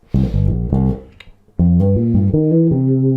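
A short run of punchy, low bass guitar notes, a few clipped staccato hits followed by a sustained melodic phrase, loud and close.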